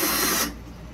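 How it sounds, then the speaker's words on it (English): A power tool runs loudly for about half a second during the build of a hydroponic living wall, then cuts off abruptly, leaving quiet room noise. "I'm just doing this for a little bit longer because it's a power tool"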